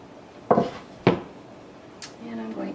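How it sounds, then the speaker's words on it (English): A metal baking pan is set down with two distinct clattering knocks in a home kitchen while preparing a Hungarian zserbó slice, followed by softer handling sounds. "I'll just bring back the pan"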